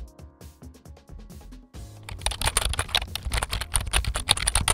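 Fingers tap a computer keyboard in quick bursts of crisp clicks. Sparse, lighter keystrokes give way to a louder, denser flurry of typing.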